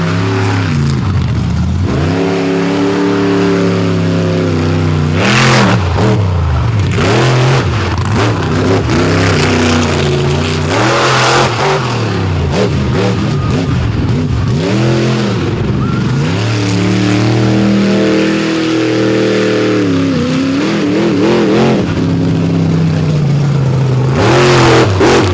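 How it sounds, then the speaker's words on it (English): The Maximus monster truck's big engine roars and revs hard through a freestyle run at an outdoor Upper Peninsula event, repeated loud rising and falling surges with deep throttle blasts and brief lulls, close and dominant throughout. "Now, Jack Brown rolling out in Maximus to wrap up freestyle here this afternoon on the Upper Peninsula"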